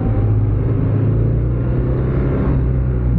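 A BMW R1290 motorcycle rumbles along at riding speed, a loud, steady low engine drone mixed with road and wind noise, close and continuous.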